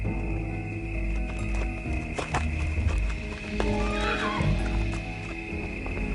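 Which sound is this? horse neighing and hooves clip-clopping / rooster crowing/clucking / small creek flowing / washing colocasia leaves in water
horse neighing and hooves clip-clopping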